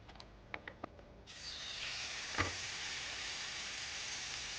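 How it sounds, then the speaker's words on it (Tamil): Cooking oil heating in a pan in a studio kitchen breaks into a steady, close sizzle that starts abruptly and holds, with a brief louder crackle partway through and a few light clicks before it. "எண்ணெய் சூடு பண்ணிக்கலாம்."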